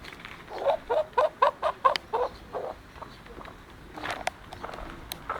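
Pheasant close by in a bird yard, giving a rapid series of about eight sharp clucking calls, then quieter scattered sounds and shuffling nearby.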